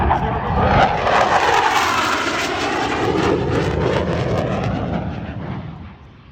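A loud jet aircraft with 30,000 pounds of thrust in a 27,000-pound airframe roaring past at an air show, a broad, sweeping whoosh that shifts in pitch, then fades away as it departs.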